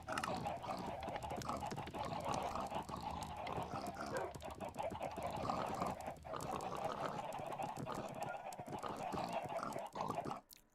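Dog and pigs in the Beer Hall of the video game Brigador make a dense, busy mix of animal noises, grunts and barks layered together continuously at moderate level before a brief drop near the end.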